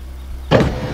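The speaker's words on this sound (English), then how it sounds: "Daddy, make the magic windows go down" Car power windows whir down with a short electric motor hum, loud and close, starting midway and running alone without talk.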